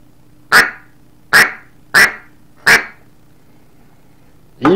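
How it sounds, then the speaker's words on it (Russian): A Tall Timber duck call is blown in four evenly spaced, loud, raspy quacks, followed by the start of a fifth, each one short and sharp over a quiet low hum. "Он сразу хрипит, он сразу крякает более-менее реалистично."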